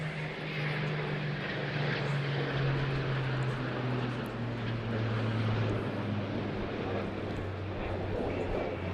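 A Eurofighter Typhoon and a Spitfire fly at the Eastbourne airshow, a steady engine drone with a prominent low propeller hum carrying across open air, fairly distant and even in level.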